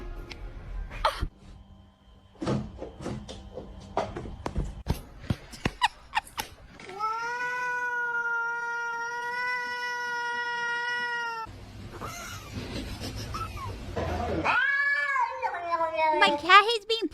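A house cat meows and caterwauls, with long drawn-out harmonic yowls and shorter rising cries, close and clear, mixed with sharp clicks and other brief noises.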